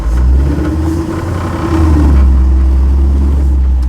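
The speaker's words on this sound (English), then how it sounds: "It's got a nasty EFI big block under the hood, stick shift transmission" A 1953 Chevrolet hotrod truck with a fuel-injected big block V8 and stick shift drives along, its loud, deep engine droning steadily up close, with no voices over it.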